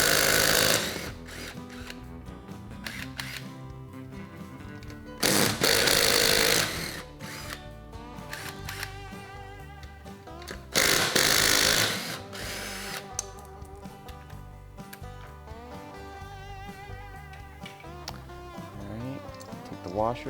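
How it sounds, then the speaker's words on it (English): An impact driver or power tool run in reverse to back lug nuts off a Polaris Ranger 500 wheel, sounding in two loud bursts a few seconds apart over a busy, buzzy background. "I'm gonna go in reverse to take the lug nuts out"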